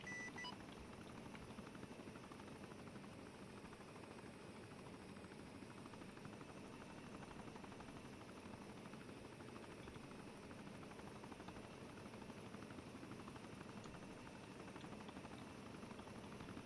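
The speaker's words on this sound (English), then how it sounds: "Where'd the Chinook go?" A Chinook helicopter in Arma 3 drones steadily as a continuous, faint rotor and engine wash held at a constant level throughout, with no talk.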